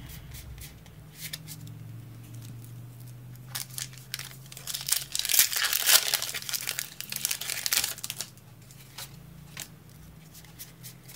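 Plastic wrapping from Pokemon Unbroken Bonds booster packs crinkles and crumples close by, in irregular rustling bursts that swell louder midway before settling into softer handling noises, with no talking.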